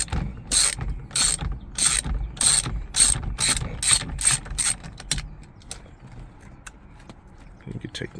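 A ratchet with an M12 triple-square bit loosens the steering wheel bolt on a C5 Audi Allroad, giving about nine quick, close bursts of clicking strokes in a steady rhythm before falling quiet.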